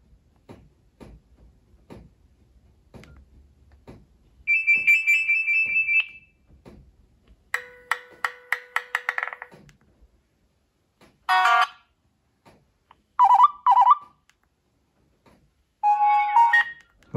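Electronic Nokia N96 prototype phone ringtone beeps and tones play in separate bursts after soft ticking clicks, close and fairly loud, with no voices.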